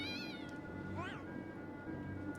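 A cartoon cat in the Super Nintendo game Pac-Man 2: The New Adventures lets out two short rising-and-falling meows over steady background game music.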